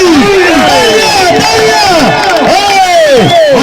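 Loud festival crowd at an urs fair at Proj Sharif, dense cheering and shouting voices with many overlapping whistle-like sweeps, continuous and close throughout.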